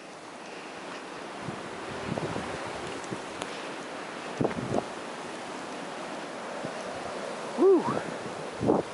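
Blizzard wind roars steadily outdoors near a buried car, a low continuous rush with gusts, and a man's brief exclamation cuts in once.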